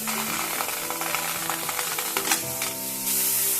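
Sliced tomatoes and medium onions sizzling and frying in a hot pot, a steady close crackle with light stirring clatter and no talk.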